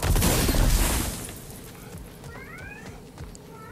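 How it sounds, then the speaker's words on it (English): A cat in the video game God of War: Ragnarok makes a couple of short, rising meows partway through, fairly faint, following a loud burst of rumbling noise at the start over steady game ambience. "This cat's driving me crazy today."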